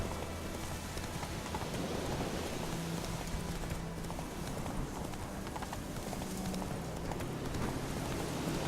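Roach the horse in The Witcher 3 gallops with steady, muffled clip-clop hoofbeats beneath constant heavy rain, the whole scene fairly quiet and even, with faint rumbles in the background.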